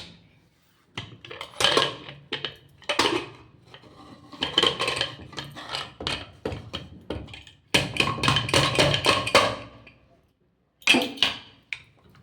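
A steel pot of cooked dal (lentils) on a gas stove is opened and handled, making crisp metallic clinks, scrapes and lid clatter in irregular bursts, close and fairly loud with quiet gaps between.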